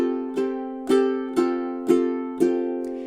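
Ukulele strumming measure 19 of a song: five bright, ringing strums in a steady syncopated pattern, each chord sustaining into the next, close and clear with no talking.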